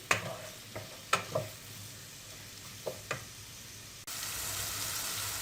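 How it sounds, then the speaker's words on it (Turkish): Mushrooms sauté in a pan for a creamless winter mushroom soup. A utensil scrapes and clicks against the pan a few times over a soft sizzle, then a louder, steady frying hiss takes over near the end. "Şimdi güzelce kavrulsun arkadaşlar. Mantar suyunu salsın."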